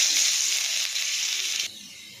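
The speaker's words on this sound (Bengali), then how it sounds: "এবার কালো জিরে একটু দিয়ে দিলাম, একটু রসুন দিয়ে দিলাম" Black cumin seeds and garlic hit hot oil left from frying fish, a sharp loud sizzle that holds briefly and then abruptly drops to a quieter hiss.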